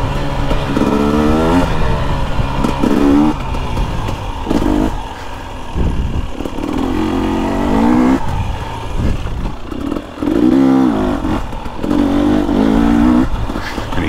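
A 2021 KTM 250XC TPI dirt bike on trails, its engine revving up and down repeatedly at close range, with clattering bursts as it accelerates and no speech.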